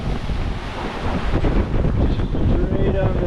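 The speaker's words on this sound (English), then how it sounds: "Getting hit with up to 25 knot gusts." Strong gusts of up to 25 knots from Cyclone Tam batter a sailboat approaching Auckland, a loud, unbroken roar of wind across the microphone over rushing water and waves.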